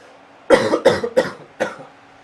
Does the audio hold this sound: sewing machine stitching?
no